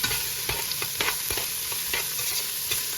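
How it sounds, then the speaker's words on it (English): Onion frying in a pot, with a steady sizzle and spoon scrapes and knocks at irregular intervals as it is stirred, close by with no talking. "The first thing I'm going to add is the onion. I'm going to stir with my spoon."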